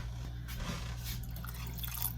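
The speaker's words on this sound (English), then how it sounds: "I'm just going to put probably just a tiny little bit more water." Water trickles and drips into a pot of stew with beans, a quiet, brief pour heard close up with no talking.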